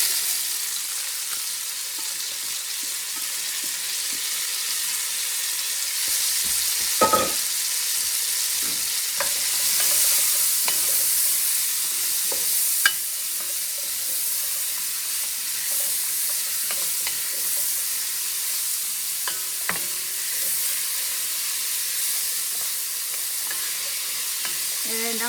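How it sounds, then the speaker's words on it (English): Carrots and onions sauté in a pan with a continuous hiss of frying, broken by occasional clinks and scrapes of a utensil stirring them; fairly close with no talking. "And I'm just gonna saute them just for a few minutes until they're softened up"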